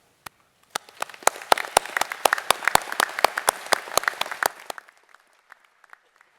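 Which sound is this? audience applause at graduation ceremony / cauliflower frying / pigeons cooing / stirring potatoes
audience applause at graduation ceremony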